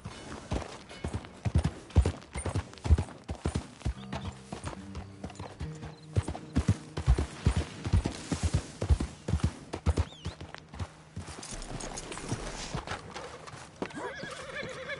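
Horse hooves clip-clopping in Red Dead Redemption 2, a close, rhythmic run of hoofbeats at a steady walking pace that slows and gives way to a softer rustle near the end.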